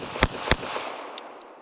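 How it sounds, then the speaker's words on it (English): Shots from a Smith & Wesson Bodyguard 380 pistol fired one-handed at a range, two sharp close cracks in quick succession followed by fainter pops, including what sounds like a more distant shot. "Let's do some more one-handed shooting"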